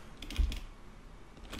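Keys clatter on a computer keyboard in quick, irregular clicks, close and moderately quiet, over a steady low room hum while a terminal command is entered, with no talking.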